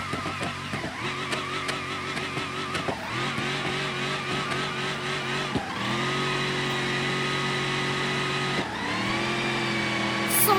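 A car engine in BeamNG.drive revs and accelerates hard through several gear changes, loud and steady, each shift dropping the pitch before it climbs again, with only faint talk in the background.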